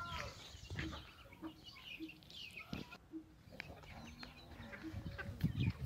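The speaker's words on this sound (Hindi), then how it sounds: "छतरे मुर्गियां सब सुबह का नाश्ता हो रहा है जी।" Chickens on a farm feeding at breakfast time, giving scattered soft clucks and calls amid a busy outdoor background, with other farm animals nearby.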